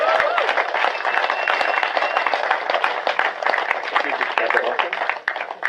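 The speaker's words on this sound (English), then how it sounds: "put your hands together, come on," A crowd applauds the champion at a Hobie kayak bream fishing grand final presentation, loud continuous clapping throughout, with a voice calling out over the noise.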